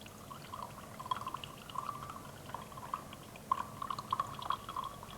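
Acid poured into sodium aluminate filtrate in a chemistry demonstration, a faint, steady trickling pour with small splashy drips, quiet and close with no voices.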